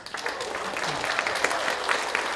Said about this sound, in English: Maybe a little round of applause for Neil.